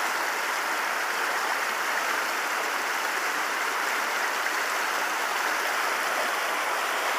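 Steady rushing water from a flowing river fills the scene, a constant close hiss and burble with no pauses or voices.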